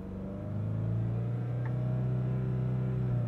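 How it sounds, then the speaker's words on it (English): A 2020 Volkswagen Golf GTI with a six-speed manual gearbox holds a steady, raised engine rev. The drone is low and smooth, with a sustained hum and no other noise over it. "So I think if I hold the revs right here"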